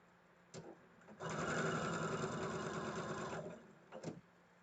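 Sewing machine stitching a seam on a quilt block, running at steady speed for about two seconds with short bursts just before and after.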